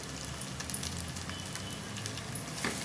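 Chilli powder, turmeric and salt frying in oil for boti curry, a soft, steady low hiss with faint scattered crackles, quiet and close.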